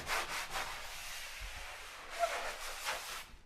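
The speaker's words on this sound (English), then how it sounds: "I'm just going to sand those edges just ever so lightly" Sandpaper rubs lightly over the edges of a drywall paper repair in soft, quiet strokes, a gentle scratchy brushing with small swells.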